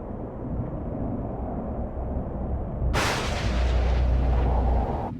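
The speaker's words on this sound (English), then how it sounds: "There was an explosion in one of our gravity compensation thrusters." A cartoon spaceship's gravity compensation thrusters blow apart in one sudden, loud, broadband burst that cuts in over a low rumbling drone and then carries on as a sustained roar.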